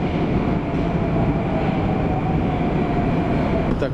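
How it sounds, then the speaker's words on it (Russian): A Moscow metro train at Lomonosovsky Prospekt station gives off a loud, steady low rumble and hum, as if heard from aboard a moving carriage, without talk. "Итак, мы приехали на станцию метро Ломоносовский проспект."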